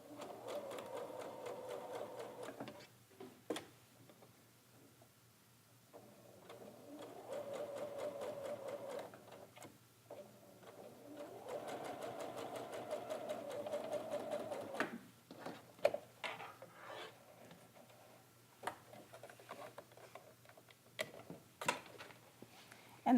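A sewing machine stitches a quarter-inch seam across bias binding in several runs of fast, even mechanical whirring, broken by pauses and sharp clicks and ticks as the fabric is handled.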